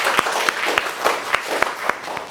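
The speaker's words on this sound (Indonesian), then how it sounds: "Kita berikan aplaus dulu buat semuanya." A small audience applauds at a school talk-show event with a headmaster guest in Rangkasbitung: a steady, moderately loud wash of clapping, with sharper individual claps popping out at a fairly regular beat and no talking.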